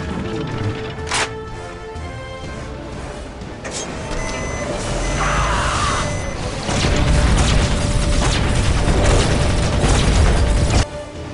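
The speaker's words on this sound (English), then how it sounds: "Artillery, fire." Artillery fire in a Warhammer video game: several booming shots and bursts build up over mechanical game noise and a steady tone, growing louder and denser toward the end, with no talk.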